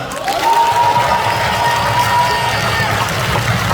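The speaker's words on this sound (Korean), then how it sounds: "김구정 리더 황명필 후보에게 다시 한번 뜨거운 박수 부탁드립니다" A crowd applauds a candidate at a political party leadership event, with loud, close, continuous clapping alongside a faint sustained whistle-like tone and some murmuring voices.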